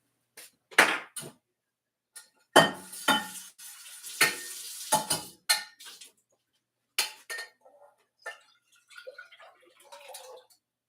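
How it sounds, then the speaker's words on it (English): Pans being switched and rinsed while cooking tapioca in a home kitchen: metal pots clank and scrape in scattered knocks, with brief running-water rinsing and soft utensil taps, fairly close and irregular. "We're switching pans, doing what we gotta do to survive. Rinse it out."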